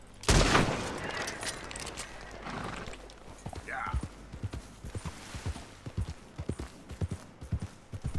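Horse hooves clip-clop in steady, evenly spaced beats while riding through the wilderness in Red Dead Redemption 2, opening with a loud burst before settling into a close, rhythmic trot under a voice.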